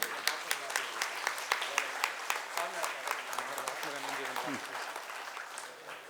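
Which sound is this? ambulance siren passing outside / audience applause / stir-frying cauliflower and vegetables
audience applause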